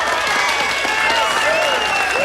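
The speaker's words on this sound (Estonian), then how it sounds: "Aplaus Sheepsheartile!" Loud, dense audience applause for a performer in the Holly Hobbie TV series, sustained throughout, with tonal voices or cheering sliding over the clapping.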